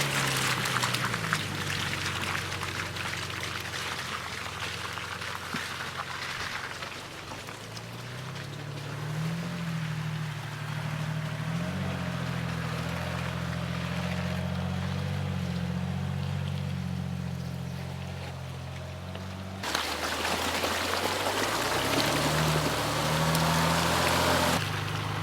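Jeep Gladiator crawling through water on a black-rated creek-bed trail, its engine droning steadily while water swishes and splashes around the tires, with a brief break near the end before the churning resumes.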